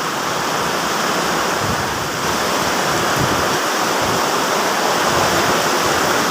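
Steady rushing water pouring continuously out of a small hole, a dense broadband hiss with no pauses, loud and close.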